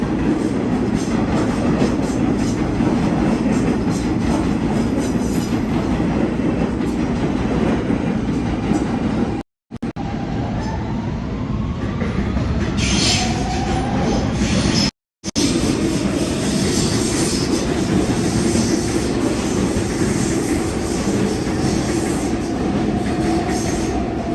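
A G train subway in Brooklyn runs loudly and steadily nearby, with continuous rumbling wheels and rail noise, a brief squeal midway, and two short cuts in the sound, with no talking.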